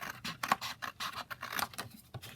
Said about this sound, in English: So I'll just cut it down here